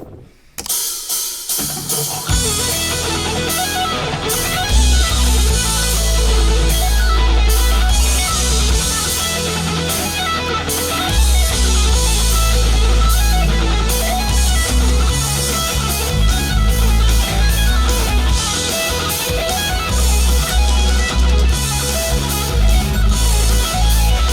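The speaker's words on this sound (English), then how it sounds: "Today we're doing a guitar lesson." Loud, dense guitar playing of a song intro runs continuously for the whole stretch, fast busy notes over a heavy low end with no talking.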